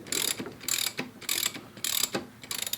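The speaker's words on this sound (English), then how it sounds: "you have to loosen up this nut here, which I believe is also another 13mm." A ratchet loosening the axle nut on a Honda CB500F motorcycle: several quick bursts of close, sharp clicking, each a short run of rapid pawl ticks separated by brief pauses.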